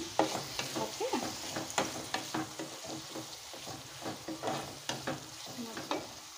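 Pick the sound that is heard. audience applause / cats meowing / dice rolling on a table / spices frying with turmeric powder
spices frying with turmeric powder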